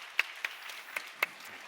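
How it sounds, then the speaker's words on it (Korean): A few scattered, quiet hand claps from a congregation at a church youth worship service, four sharp isolated claps spaced irregularly over a soft room background. "함께 영광의 박수 올리겠습니다."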